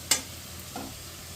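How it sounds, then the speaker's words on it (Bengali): Potato, onion and tomato with spices frying in a pan, a sharp scrape of stirring followed by a softer second stroke over a faint, steady sizzle. "এবার মিশিয়ে দিই আমি 1 মিনিটের মতন এটা ভালো করে ভাজা ভাজা করব।"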